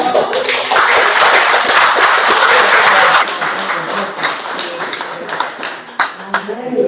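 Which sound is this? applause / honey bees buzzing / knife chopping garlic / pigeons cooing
applause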